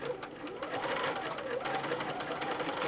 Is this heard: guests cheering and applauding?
no